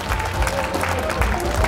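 Audience applause at the opening ceremony of a biennale at Gimhae's cultural arts center, a steady broadband clapping wash with a voice talking over it throughout.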